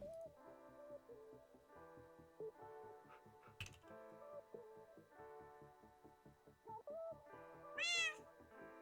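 Over steady plucked Minecraft background music, a single short cat meow comes near the end, brief and clearly above the soft, rhythmic backing.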